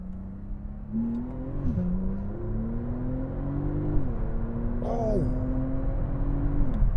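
A Porsche 911 Turbo engine accelerates hard and close, its whine climbing steadily in pitch and dropping back at each of several gear shifts while the roar grows louder.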